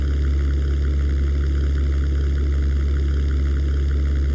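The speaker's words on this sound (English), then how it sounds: "I was like really shocked by that sound from my engine" A steady, loud aircraft engine drone from the European Air War flight simulator, a constant low hum with no break or change in pitch.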